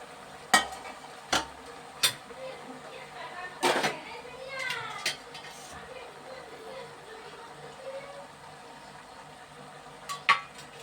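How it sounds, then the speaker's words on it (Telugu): Food being stirred in a cooking pot after salt and chopped pieces are added, with scattered scraping knocks and clinks at a moderate distance amid soft background chatter and children's voices. "తిప్పుతున్నానండి"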